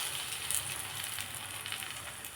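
Eggs added to drumstick leaves already frying in hot oil, giving a steady, close sizzle with small crackling pops throughout.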